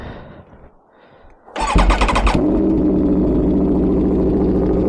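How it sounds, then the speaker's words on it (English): An Aprilia Tuono V4 motorcycle fitted with an LV Corsa carbon exhaust fires up from cold after a brief starter crank, jumping to a loud, close, burbling roar that settles into a steady, rumbling high idle. "let's start this bike up and see what it really sounds like"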